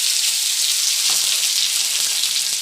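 Shallots and dried red chillies fry in a hot pan, giving a loud, steady, dense sizzle with faint crackles and pops throughout.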